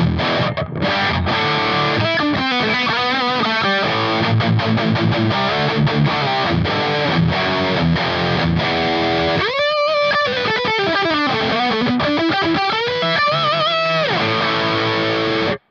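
Heavily distorted electric guitar played through a HeadRush unit with just amp and IR, dry but high gain, loud and punchy with choppy chords and a bending lead run, steady and continuous throughout.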